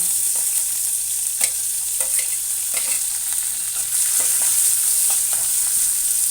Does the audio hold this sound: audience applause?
no